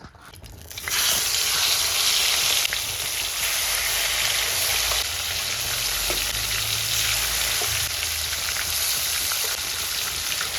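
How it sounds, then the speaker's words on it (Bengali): Boal fish hits hot oil already used for frying potatoes, giving a loud, steady, hissing sizzle that starts abruptly and carries on without pause. "আলু ভাজার তেলে এবার মাছগুলো ছেড়ে দেবো।"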